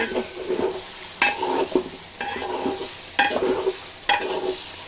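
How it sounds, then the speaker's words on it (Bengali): Meat and pulao rice for biryani sizzle in separate pans while being stirred, with a steady frying hiss broken by several sharp spoon scrapes and clatters, close and fairly loud, with no talking. "আজ হচ্ছে এইভাবে আলাদা মাংস রান্না করছি আর এখানে আলাদা পোলাও রান্না করছি"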